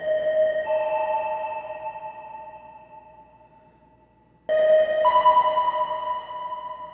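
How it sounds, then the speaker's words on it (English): Two sustained tonal musical notes ring out with a long, fading reverberant tail, the second entering abruptly after the first decays; delay is applied before the reverb. "Add the delay before the reverb."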